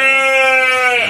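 Merino and Texel sheep on a farm give one loud, sustained bleat, strongly tonal and wavering as it trails off, heard up close on its own with no talk.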